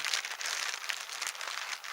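A plastic evidence bag from a collection kit crinkles and rustles steadily as it is handled up close, a soft, continuous crackle lasting a couple of seconds.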